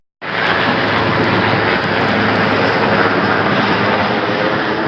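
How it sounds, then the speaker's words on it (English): A big helicopter flies overhead near Old Camp Gold, a loud, steady roar that starts abruptly and holds close and unbroken throughout, with no voices. "that helicopter that just flew over"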